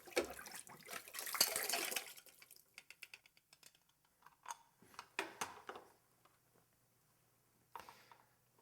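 Tap water splashes into a glass being rinsed out, a brief rushing burst followed by scattered drips, clinks and sloshes, fairly quiet and close, with no voices.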